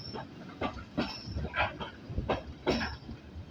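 Ride aboard the steam engine Titan on the heritage line from Corfe Castle to Swanage, with a steady rumble of carriages rolling on rails and several louder clacking bumps spaced about half a second to a second apart.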